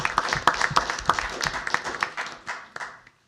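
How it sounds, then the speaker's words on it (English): Scattered clapping at a city council meeting, a modest group of individual claps that starts briskly, thins out and dies away to silence at the end. "So if we could applaud these youth for"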